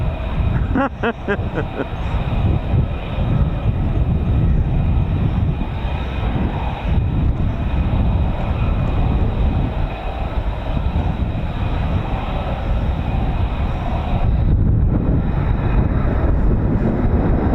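An F-35B stealth fighter jet roars overhead at a naval air squadron base, a loud, sustained engine rumble and whine filling the whole stretch, with a few faint voices beneath it.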